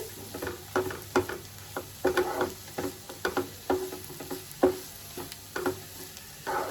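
Egg curry stirred in frying oil in a pan, with repeated scraping stir strokes in an irregular rhythm over a steady close sizzle and no talking.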